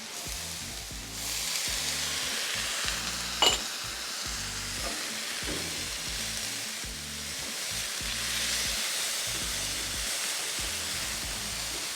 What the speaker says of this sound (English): Let's get our onions and peppers in.